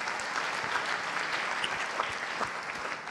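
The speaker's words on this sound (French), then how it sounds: "On peut l'applaudir d'ailleurs" Audience applause at a sports evening in Sarthe honouring athletes, including a world gravel cycling champion, a dense steady wash of clapping from a crowd, moderately loud throughout with no voices on top.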